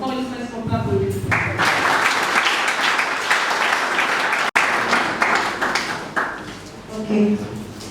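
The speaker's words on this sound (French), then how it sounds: "est-ce qu'on peut applaudir?" Audience applause at an official gathering in Kinshasa honoring dignitaries, a sustained wash of clapping building after a brief start, with voices mixed in and a short sharp knock midway before fading into talk.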